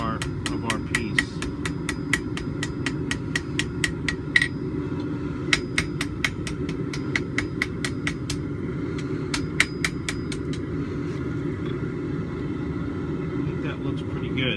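A ball peen hammer strikes scarfed steel ends being forge welded into a back scratcher, a rapid run of sharp ringing blows in bursts and pauses over a steady roaring forge, with a voice heard at times.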